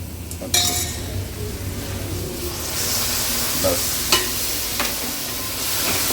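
Chicken in gravy is stirred in a pan with a soft ongoing sizzle, a spoon clinking against the metal now and then, close and fairly quiet.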